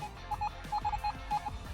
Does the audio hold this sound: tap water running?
no